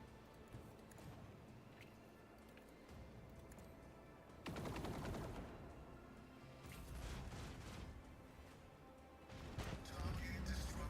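Torpedoes launching in a space battle in the video game Rogue Trader: sustained rumbling, crackling bursts with sharp swells near 4.5, 7 and 10 seconds over a busy game soundscape, with a voice speaking in places.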